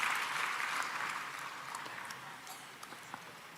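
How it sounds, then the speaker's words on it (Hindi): An audience claps to welcome a selected UPSC candidate at an honouring ceremony, the applause starting full and gradually thinning, with a few isolated claps near the end. "तालियों से स्वागत करेंगे श्री दीपक डांगी जी का।"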